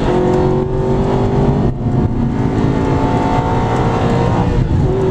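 An Aston Martin race car engine in the Shift 2 video game, driven at night on the Silverstone circuit, holds a loud, steady, close drone with brief dips in revs and no talk.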